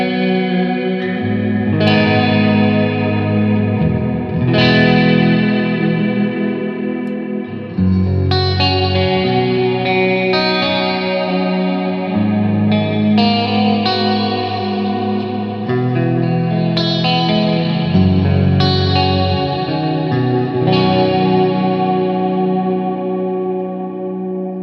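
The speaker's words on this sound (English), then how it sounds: "with this big reverb that I've got going on here, it can make some really cool noises" A Blackstar HT Stage 100 MKIII guitar amp plays sustained distorted chords with big reverb and delay, each strum ringing into washing echoes, loud and continuous without talk.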